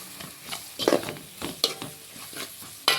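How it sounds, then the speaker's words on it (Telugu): Garam masala, coriander powder and turmeric being stirred into a sizzling frying pan, with a steady fry hiss broken by several sharp scraping strokes of a spoon against the pan, close and fairly loud, no talking. "గరం మసాలా ధనియాల పొడి పసుపు అన్నీ వేసిన తర్వాత బాగా ఇలా కలిపేసుకుందామండి"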